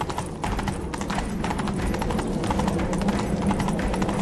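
Horses galloping in a chase in The Witcher 3, with dense, rapid hoofbeats pounding steadily throughout, loud and close, with no pauses.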